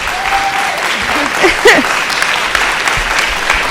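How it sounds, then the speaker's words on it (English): Audience applause for students at an NHS and NJHS induction ceremony, steady crowd clapping throughout, with a whistle and a few brief cheers and voices mixed in. "we want to give them a round of applause"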